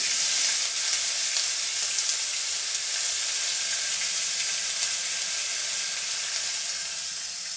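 Finely chopped green chilies and ginger fry in a pan for wheat samba rava kichdi, giving a continuous, even sizzle that fades slightly toward the end, with no voices.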